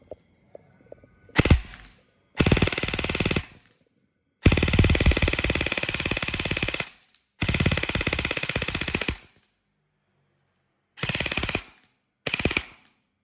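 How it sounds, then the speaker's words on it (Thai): Rapid bursts of BBs from an E&C 338 electric airsoft gun strike a wooden board, loud and close, coming in several separate strings of a second or two each with short pauses between. "ฟังเสียงลูกปืนที่กระทบไม้กระดานนะครับ ค่อนข้างดังเลยทีเดียว"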